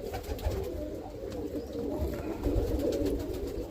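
Roller pigeons in a loft coo softly and continuously, a low, steady murmur of several birds close by with no talk over it.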